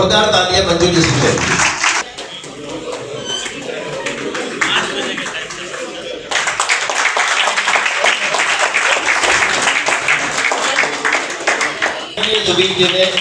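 Audience clapping loudly at an Alliance Club installation ceremony in Kolkata, bursts of applause rising and falling with a voice speaking over parts of it, dense and close.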